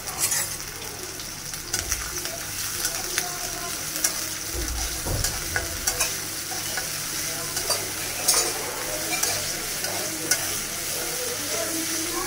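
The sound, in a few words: frying shrimp in oil in a wok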